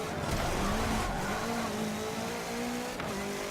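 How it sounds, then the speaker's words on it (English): A 2016 Subaru WRX rally car in Forza Motorsport 7 sliding under a light handbrake, with a steady, loud engine roar and faint tire squeal streaking through it. "So I might put on the handbrake a little bit, a little tiny bit of the handbrake."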